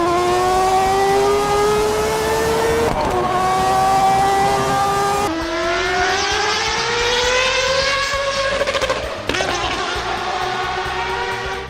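Racing video game car engine droning loud and close, pitch climbing steadily through gears with abrupt drops at each shift, a continuous synthetic-sounding whine.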